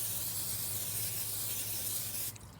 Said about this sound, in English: I spray it with just a little bit of Pam.